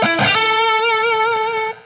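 Distorted electric guitar plays a sustained lead lick from Little Drummer Boy, a quick picked attack settling into one long held, vibrato-tinged note that rings loud and alone before cutting off near the end.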